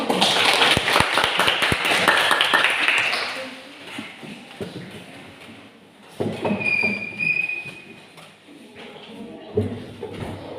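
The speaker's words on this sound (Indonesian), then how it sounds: "Kita tepuk tangan dulu." A class of schoolchildren claps hands together at the start of a Christian religious education lesson, a dense burst of sharp claps for about three seconds, followed by quieter classroom sounds and voices.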